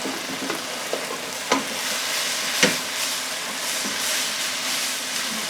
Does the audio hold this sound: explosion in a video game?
no